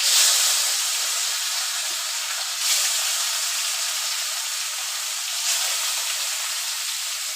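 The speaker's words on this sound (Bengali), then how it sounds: "মাছ ভালোভাবে লাল লাল করে মাছ ভাজা নিতে হইব" Rohu fish pieces fry in hot oil in a wok, giving a dense, continuous sizzle that stays loud and close throughout, with slight surges, and no voices.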